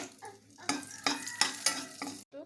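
Bay leaf, green chillies and dried red chillies frying in hot oil in a pan, quick bursts of crackling sizzle with a few stirring knocks, close and quiet, no talk.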